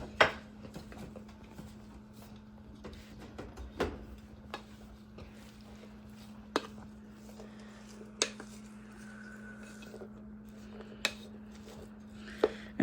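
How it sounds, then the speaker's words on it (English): Spices being mixed into a dish: sparse, fairly quiet clinks and scrapes of a utensil against a bowl, spaced a second or two apart over a low steady hum. "So we'll go ahead and kind of mix in our spices here."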